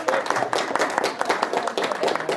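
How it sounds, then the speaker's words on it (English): Studio audience applauding during a noon television newscast honoring a teacher, a dense burst of many hands clapping steadily throughout, fairly close and loud, with no voices over it. "Give her a big round of applause."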